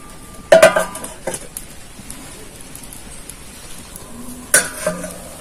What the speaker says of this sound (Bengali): এবার আমি ঢাকা দেব আর ঢাকা খুলে নাড়ব